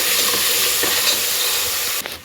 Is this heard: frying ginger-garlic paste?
yes